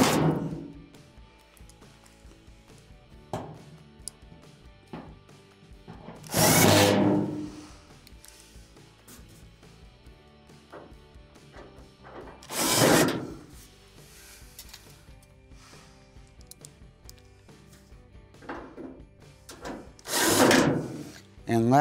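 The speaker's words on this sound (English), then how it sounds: "now we can just start screwing all of our screws in around the perimeter" A power driver runs screws into the perimeter of an Amana dryer panel in three loud, separate bursts of a few seconds each, with quiet handling and clicks between them.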